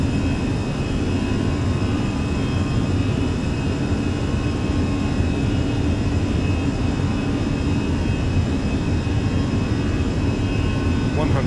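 Fenix A320 jet engines at takeoff power in Microsoft Flight Simulator, a continuous loud, broad roar with steady whine that holds evenly throughout, under occasional talk.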